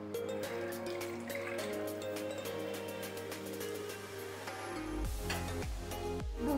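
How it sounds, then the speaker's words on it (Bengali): Boiled, sugar-sweetened milk poured into hot ghee in a pan, a steady liquid pouring and bubbling with a sharp sizzling surge near the end, close and fairly loud. "এবার আমি যে দুধটা জ্বালিয়ে রেখেছিলাম চিনি দিয়ে ওটা দিয়ে দেবো।"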